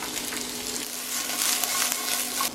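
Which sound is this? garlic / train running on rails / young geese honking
garlic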